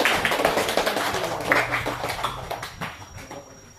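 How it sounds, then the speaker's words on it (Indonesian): Students in a classroom clap for a winning group, a brisk burst of many hands clapping that starts strong and gradually thins and fades out, close and without talk. "Tepuk tangan semua"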